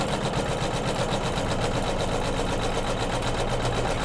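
Sewing machine quilting a pillow flange with white thread on a Kimberbell pillow, a continuous dense buzzing whir that holds steady and close throughout.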